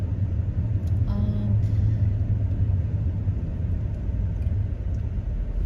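Inside a Range Rover L405 on the move, a steady low engine and road rumble drones continuously with no change in pace, heard alone without voices.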